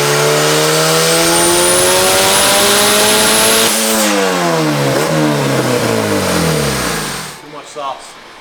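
Turbocharged car engine revving hard on a dyno, loud and continuous, climbing steadily then dropping and surging again through several sweeps before cutting off near the end, with people talking underneath.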